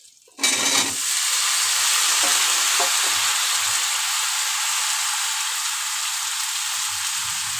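Raw pumpkin hits a hot pan and breaks into a loud, steady sizzle that holds for several seconds after a short quiet start, with a few faint stirring clicks and no voices.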